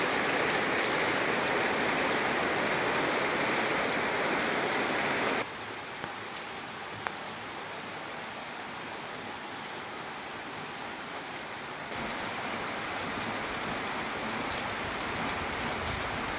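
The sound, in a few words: heavy rain falling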